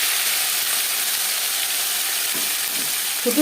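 Ginger and green chili paste fries in oil with cumin and bay leaf, an even crackling sizzle holding steady, close up, with a faint clink of a utensil near the end and no speech.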